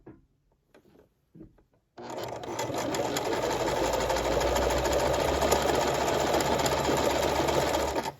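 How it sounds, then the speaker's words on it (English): A sewing machine stitches a buttonhole on a garment. After a few soft taps and handling noises, it starts and runs as a loud, continuous motor whir with a rapid needle rhythm, close up. "we're going to stitch this buttonhole, the first half of it, all the way down"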